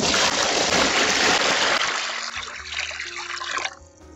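Soapy water streams and trickles from hand-squeezed jeans during hand washing, a loud rush that thins into dribbles and drips over a few seconds, with no talking.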